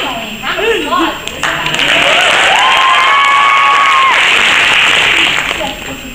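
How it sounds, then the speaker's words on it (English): A crowd claps and cheers loudly with whoops and shouting voices in a big sustained burst of applause that builds, holds steady, then eases off. "Finally, round of applause."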